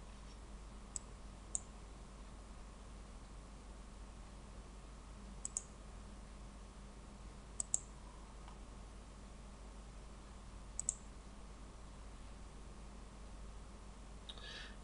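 Computer mouse clicks in a quiet room: sparse, faint, sharp single and double clicks spaced a few seconds apart over a soft steady hiss, with no voice.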